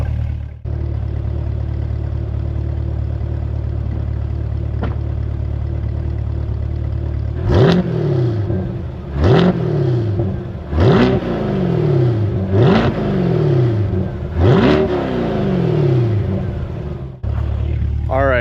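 A 2020 Chevrolet Corvette C8 with stock exhaust revs in five loud, sharp blips after an idle, each rising then falling back, close by with no talking.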